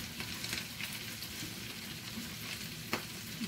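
Meat patties (tortas de carne) frying in a pan, giving a steady close sizzle and crackle with a few sharper pops, heard alone without speech.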